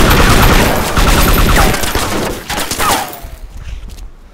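Heavy gunfire in a shooter video game, dense rapid bursts of shots, loud and close, thinning out and fading over the last second.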